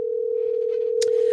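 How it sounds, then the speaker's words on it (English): A telephone dial tone hums steadily and loudly while a call is placed, a single unbroken pitch with faint background noise and a brief click near the end. "So I'm calling Natasha."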